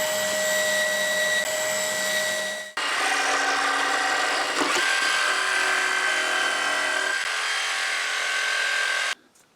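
A drill bores into wood with a 20 mm Forstner bit, giving a sustained high whine that shifts in pitch as the bit cuts and then stops abruptly. The sound is loud and close, with no talking.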